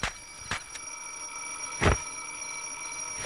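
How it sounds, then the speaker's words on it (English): A buried alarm clock ringing in a children's animated show, heard as a few short muffled bell bursts spaced apart over a steady background hum. "the alarm finally stopped ringing"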